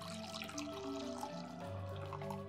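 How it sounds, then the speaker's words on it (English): Dissolved gelatin mixed with orange juice poured slowly from a measuring jug into sphere molds, a steady continuous liquid trickle with faint dripping over a tonal background hum throughout. "we're just gonna slowly pour this into our sphere molds"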